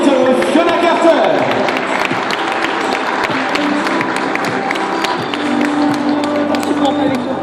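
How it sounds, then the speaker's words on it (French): Sustained crowd applause at a horse show in an indoor arena, steady dense clapping throughout, with an announcer's voice and crowd noise mixed in. "Mesdames et messieurs, applaudissements, Rapito et Fiona Carter."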